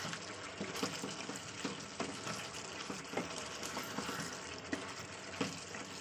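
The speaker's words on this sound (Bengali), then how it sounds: "তো চলুন এই পর্যায়ে আমি জল দিয়ে দিচ্ছি।" Water is poured into onion masala that has been fried until the oil separates, for an onion kalia. A continuous close rush of liquid mixes with crackling sizzle and a few sharper pops, with no talking.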